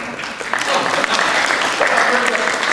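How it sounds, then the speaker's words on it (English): An audience applauds after an author talk at a community college library, with the clapping swelling into a steady roar while a voice speaks over it. "I don't want to stop the applause."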